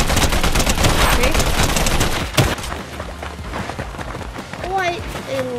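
Loud, rapid gunfire in Fortnite fills the first two seconds as a dense burst, then thins to scattered shots under game effects, with a voice talking throughout.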